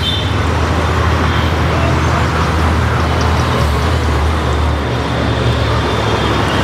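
City buses and road traffic at Chhatrapati Shivaji Nagar bus station in Pune, a constant loud rumble of idling and passing engines with a low drone throughout.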